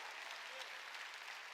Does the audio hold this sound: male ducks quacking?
no